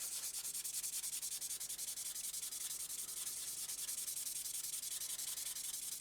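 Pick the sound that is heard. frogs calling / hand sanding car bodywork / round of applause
hand sanding car bodywork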